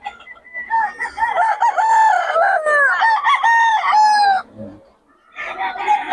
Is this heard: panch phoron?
no